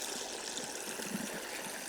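Water drains and pours out in a continuous, rushing trickle, close and steady, with a faint gurgle near the end.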